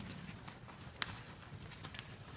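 Horse hooves clip-clop at a steady pace during a riding lesson, soft and slightly distant, with one sharper hoof strike standing out among the regular beats.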